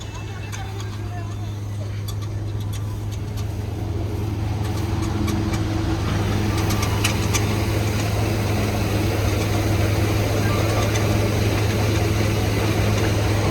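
A tractor with a trolley runs with a steady low rumbling drone throughout, loud and close, with people talking over it, during paddy work.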